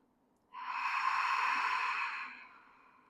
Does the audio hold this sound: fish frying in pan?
no